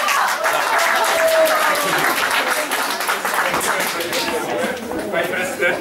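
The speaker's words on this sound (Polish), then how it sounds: "brawa, proszę Państwa" Loud, close applause from an audience at the opening of a theatre stage, a steady wash of clapping lasting several seconds, with some voices faintly mixed in.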